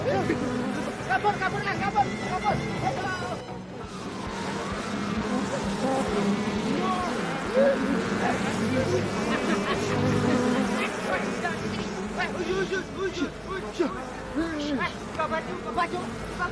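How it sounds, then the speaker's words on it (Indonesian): Bees buzz in a steady, droning swarm that runs throughout, mixed with loud voices talking and shouting over it in a lively comedy scene. "Lebah."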